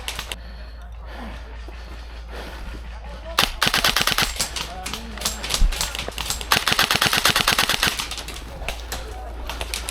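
An airsoft gun fires fully automatic outdoors at an airsoft field, fast bursts of sharp clicking shots at close range, with players talking between and over the strings.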